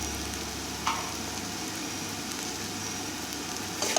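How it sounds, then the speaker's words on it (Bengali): An uttapam made from dosa batter fries in a pan, giving a constant soft sizzle and crackle, with faint scraping clicks now and then. "দুই পিঠ এরকমভাবে কড়া করে ভেজে নিলেই কিন্তু হয়ে যাবে উত্তাপা"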